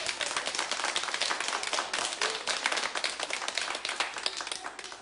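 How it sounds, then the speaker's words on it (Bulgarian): Audience applause at a children's talent show, a lively patter of individual claps blending into a continuous, moderately quiet wash that holds steady throughout. "Аплодисменти"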